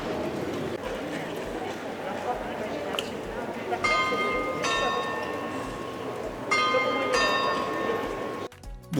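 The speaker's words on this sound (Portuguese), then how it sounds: "batem ali no sino" Mechanical figures on the Dijon cathedral clock strike its bell, ringing out four clear metallic strikes in two pairs over a steady background of outdoor crowd noise and murmuring voices.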